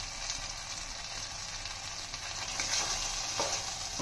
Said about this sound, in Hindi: और मिक्स कर लेते हैं।